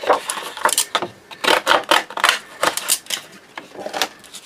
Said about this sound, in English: I'm going to use my deckle edge scissors just to cut around this.